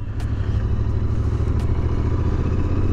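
A 2022 Royal Enfield Interceptor 650 BS6 motorcycle's engine runs with a loud, steady, low rumble and a constant close mechanical clatter, and no talk.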